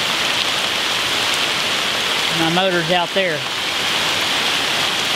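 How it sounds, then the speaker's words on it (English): Steady rain falling outdoors, a continuous hiss that runs the whole time while someone speaks briefly over it partway through. "it's decided to rain on us."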